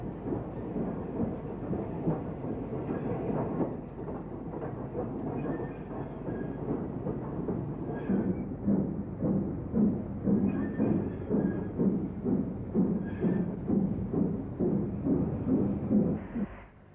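A passenger train is double-headed by a Stanier 8F 2-8-0 and a GWR Grange class steam locomotive. A low rumble builds into steady, rhythmic exhaust chuffing, moderately loud and close, with no voices.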